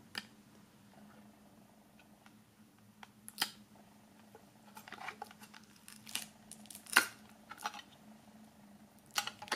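Firm plastic foil being peeled off a boxed set during an unboxing, heard as faint, scattered crinkles and small ticking snaps close by in a quiet room.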